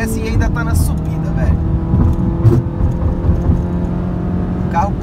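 A stage 2 tuned Volkswagen Golf GTI, around 285 wheel horsepower, pulls hard uphill with a steady, close engine drone that holds throughout while people talk over it.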